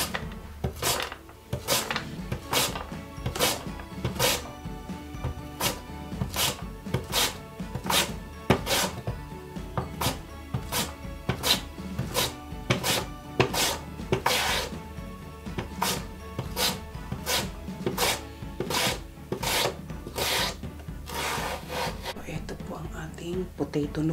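A knife chops potato on a cutting board in a steady rhythm of sharp, evenly spaced thuds, about one per second, close by, with faint kitchen shuffling between strokes.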